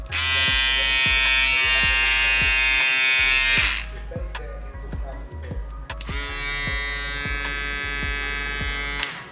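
A Stylecraft Gamma electric shaver runs with a steady, loud buzzing hum and a strong motor tone, briefly changing pitch midway before settling back into a continuous drone.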